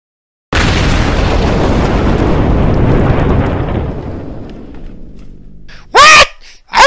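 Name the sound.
wrecking ball smashing the school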